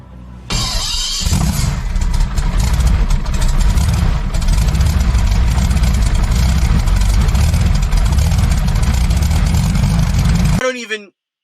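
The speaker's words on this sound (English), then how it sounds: "V12 27-liter Rolls-Royce Meteor tank swap Crown Victoria" A 27-liter Rolls-Royce Meteor V12 tank engine swapped into a Ford Crown Victoria runs loud and close, with a constant heavy, dense roar that holds for about ten seconds before cutting off abruptly.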